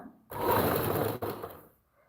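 Sewing machine stitching a lined suit, a close, steady motor whir that runs for over a second, briefly pauses, then resumes and winds down.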